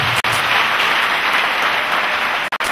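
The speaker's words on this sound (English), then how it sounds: "Clap for Jesus Christ." A church congregation in Cameroon claps together for a few seconds, a thick, loud burst of many hands with two brief dropouts, and no one speaks over it.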